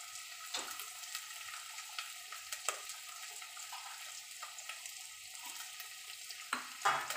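Capsicum is sautéed in a pan for pav bhaji, giving a faint, steady sizzle broken by soft, scattered clicks and scrapes of stirring, with no talking.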